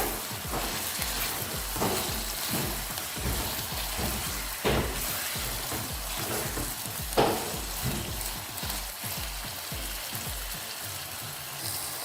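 Marinated chicken pieces fry in a karahi with a steady, dense sizzle that keeps going the whole time, and stirring scrapes break through it now and then. There is no talking.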